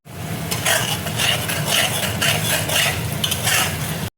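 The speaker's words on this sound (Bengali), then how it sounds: "মশলাটা দেখো ভালো করে কষিয়ে নেব" Spices (turmeric, Kashmiri chili powder, a little sugar) with chickpeas are stirred and fried in a pan for a khero curry, a steady scraping stir over continuous sizzling with clinks of the utensil against the pan throughout.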